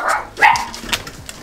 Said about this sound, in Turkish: Diğer yavrularımız havlıyor.